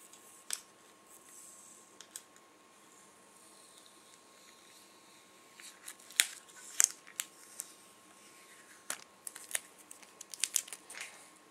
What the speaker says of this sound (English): let's remove the sticker.